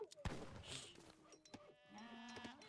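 Goats bleating in the real-time strategy game Age of Empires III, a few short wavering animal cries mixed with game sound effects and a sharp thump, fairly quiet.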